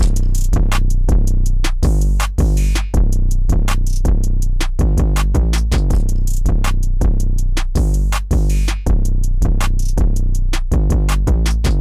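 Melodic hip-hop drum pattern with booming 808-style kicks, crisp snares and rapid hi-hat ticks, including a quick snare roll, playing loud and alone in a steady, continuous groove.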